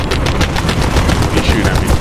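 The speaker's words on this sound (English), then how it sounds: "They shoot at me." Dense, loud bursts of automatic gunfire from enemies in War Thunder, rapid repeated shots crackling steadily for about two seconds with a muffled voice faintly underneath.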